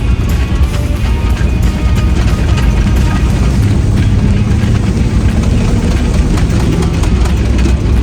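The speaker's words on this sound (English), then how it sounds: "Your rig accelerates pretty good" An old Dodge D-600 truck, abandoned for 23 years and now running again, roars loudly and steadily from inside the cab as it accelerates down a bumpy road, its deep engine rumble mixed with rattling.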